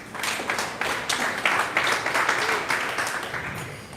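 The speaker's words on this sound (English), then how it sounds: "Let us clap for him" Audience clapping at a special training session: a dense, steady wash of many hands for the whole stretch, fairly close and continuous, with a few voices mixed in.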